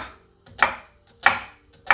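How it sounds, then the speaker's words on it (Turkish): A knife chops onions on a board for a Turkish egg dish, three sharp, close, evenly spaced cuts with quiet gaps between them and no talk. "Soğanları yemeklik bir şekilde ince ince doğrayacağız."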